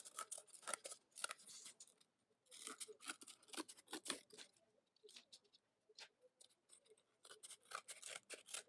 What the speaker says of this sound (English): we can use the scissors to cut out the sign